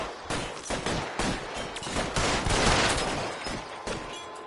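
Gunfire in the video game GTA, a dense fusillade of rapid overlapping shots that keeps up loudly for several seconds with no speech over it.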